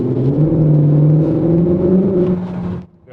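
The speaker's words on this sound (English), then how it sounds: "let's see what happens when I step on the gas here" Cupra Leon hybrid with 245 horsepower, combining combustion and electric motors, accelerates with a loud, steady engine drone and rising hum for nearly three seconds, then cuts off abruptly.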